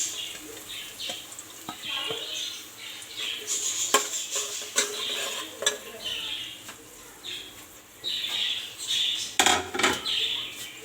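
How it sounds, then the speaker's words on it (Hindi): Onions and whole garam masala frying in two ladles of hot ghee for beef pasande, a steady fine sizzle and crackle with occasional spoon clinks against the pan, close. "घी गरम कर लिया, और इसमें प्याज और साबुत गरम मसाला मैंने साथ ही डाल दिया।"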